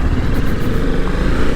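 Kawasaki Ninja H2 superbike on a ride, its engine giving a steady, loud, close-up drone with rushing wind noise throughout, no voices.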